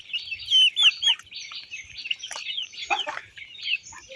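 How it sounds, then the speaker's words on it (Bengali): Chickens cheep and cluck in a busy, continuous stream of high, quick calls close by, with no one talking. "এই এখানে আমার সবগুলো মুরগি আছে"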